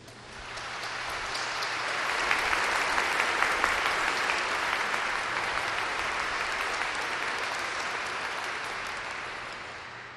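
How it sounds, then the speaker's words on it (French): A church congregation at a festival gives volunteers, the liturgy team and staff a long round of applause that swells over a couple of seconds, holds as dense steady clapping, then slowly tapers off. "J'aimerais qu'on leur donne à tous une belle main d'applaudissements."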